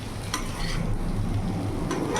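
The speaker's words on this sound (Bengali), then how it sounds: "2 থেকে 3 মিনিট এরকম ভাজা ভাজা করে নিয়েছি।" Small fish sizzle steadily with bitter gourd in a frying pan, a close, continuous crackle that runs the whole time with no one speaking.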